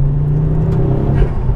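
A Ford Focus RS Mk2 on Eibach springs and spacers pulls hard out of a corner, its engine a loud, steady low rumble with no talk.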